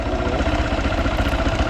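A Honda CB Hornet Crossfire HJ 250 motorcycle idles close by, a steady low mechanical throb with even pulsing and no voices over it.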